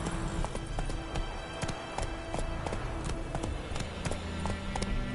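A horse gallops in The Witcher 3, its hooves pounding out a fast, steady clip-clop rhythm close up, with dense thuds over a continuous rumbling game background and no talk.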